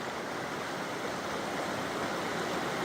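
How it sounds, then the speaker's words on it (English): The flooded right fork of the Holly River rushes past a county road in a steady, loud, broadband roar of churning water that carries on without a break, with no voices over it. "This is the right fork of the Holly River."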